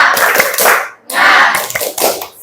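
A class of tenth-grade students in an Indonesian classroom claps through the rhythmic 'tepuk semangat' chant, bursts of group clapping mixed with chanting voices, loud and close, with a brief pause partway.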